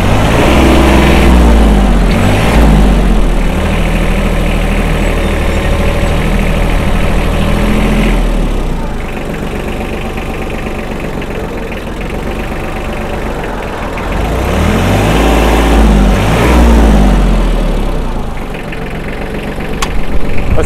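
A Yanmar F155 mini tractor engine runs loud and close, a rough, knocking diesel idle with steady low-pitched chugging whose intensity swells and eases over about twenty seconds.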